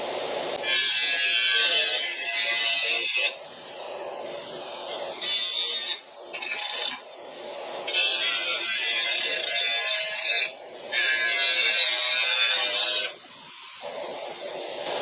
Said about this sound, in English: Deburring the edges.